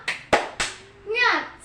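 In a micro-teaching classroom, three sharp, evenly spaced hand claps form a rhythmic clapping-game pattern, followed by a short chanted voice; the claps are close and fairly quiet.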